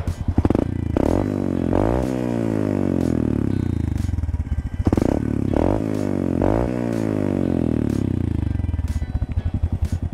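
A Honda RS 125 motorcycle on its stock exhaust canister and stock elbow, revved in repeated short bursts that rise and fall over a rough, close idle, with sharp clattering ticks between throttle blips.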